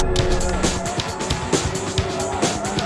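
A Ford Focus RS is driven hard on a race track, its engine a loud, busy roar punctuated by repeated gear-change and throttle pulses, with faint talk possible underneath.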